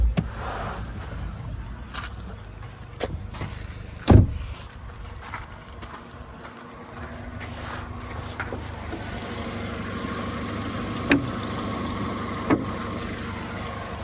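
A Volkswagen Golf Plus 1.6 MPI engine idles steadily with a low rumble, broken by a couple of sharp clicks and a thump partway through.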